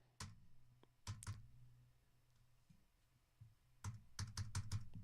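Bursts of clicky keystrokes on a computer keyboard, close and fairly loud, arriving in quick clusters separated by pauses with a low background hum.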